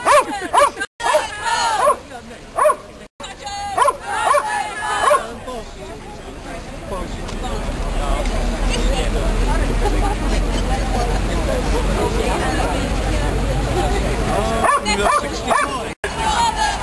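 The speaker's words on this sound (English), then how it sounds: "You can always depend on dogs." Dogs at a badger cull protest outside the High Courts in London give several sharp barks and yips up close, followed by a steady wash of crowd noise and chanting voices.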